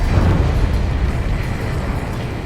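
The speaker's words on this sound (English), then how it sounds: "A huge explosion just went off underwater." A huge underwater explosion in the combat flight game Ace Combat 7 rumbles as a loud, sustained low boom that rolls on steadily without a break.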